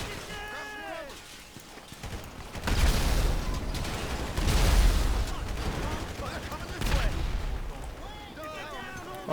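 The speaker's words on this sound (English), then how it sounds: "I have the explosions here." Heavy explosions and rapid gunfire in GTA 5 boom and crackle in bursts, with shouting voices heard briefly at the start and end.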